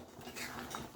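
Spoon scraping and stirring chana dal as it fries in a pan, faint soft metallic scrapes and clinks with a low sizzle beneath.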